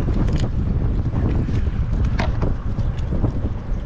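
Strong wind buffets the microphone in a loud, continuous rumble with gusty bursts and rustling, and no voices.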